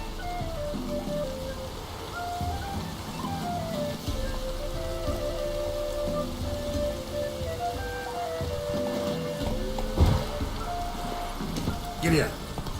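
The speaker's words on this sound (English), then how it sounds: "Looks like rain." Rain falling in The Witcher 3 game world, a steady wash of drops under music and ambient game sound, with a couple of louder splash-like bursts near the end.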